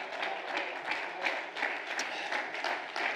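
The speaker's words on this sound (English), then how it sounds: "let's clap our hands and praise Him" Church congregation clapping their hands in praise during Sunday family worship, a dense, steady patter of many hands at moderate level with no speech over it.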